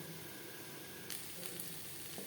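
Sliced papaya sizzles steadily in a pan, a continuous hiss with faint stirring clinks, fairly quiet and close with no voices.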